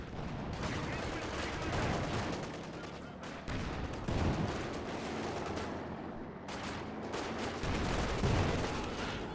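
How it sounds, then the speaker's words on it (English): Machine gun bursts and mortar impacts from a World War II battle in Company of Heroes 2, with a captured MG42 firing; a dense, continuous wash of loud gunfire and explosions runs throughout, with heavier blasts near the start and end. "The stolen MG42 loses one man to a mortar"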